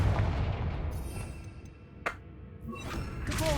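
A Confringo spell blast in the Hogwarts Legacy video game: a sharp explosive crack with a brief burst of debris, set against a loud continuous rumble of game ambience.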